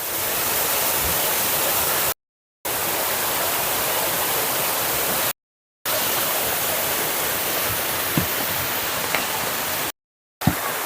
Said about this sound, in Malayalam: ഇതന്നെ വെള്ളം ഒഴിച്ച് പോയിട്ട് അങ്ങ് താഴേക്ക് പോകുന്നത്.